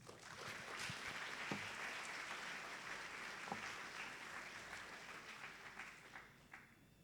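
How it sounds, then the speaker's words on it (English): An audience claps steadily in a faint, continuous wash of applause to welcome speakers at a university orientation, with a few louder individual claps before it tapers off near the end. "So please give a round of applause to welcome Mr. Puri Pirunsunthorn and Miss Arya Rose Williams."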